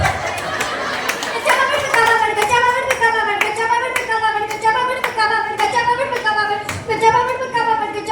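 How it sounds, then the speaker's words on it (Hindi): Hand clapping from a crowd at a Navratri garba festival: loud, regular rhythmic claps keeping time, with a chanting voice and light crowd chatter running underneath. "जोरदार तालियां"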